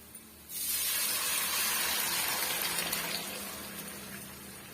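Dissolved tomato mixture for rasam poured into a hot pan, bursting into a loud, steady hissing rush after a brief pause and easing off slightly toward the end, with no voices.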